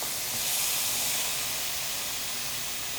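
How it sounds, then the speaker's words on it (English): Ratatouille vegetables spooned into a hot skillet give off a loud, steady, hissing sizzle that holds evenly from start to end, with no voices. "now we're just gonna spoon this in there so it can start to cook"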